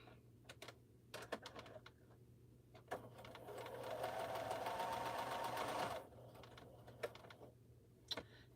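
A Bernina sewing machine stitches in a steady whirring run of about two seconds, framed by sharp clicks and taps before and after, close and fairly quiet.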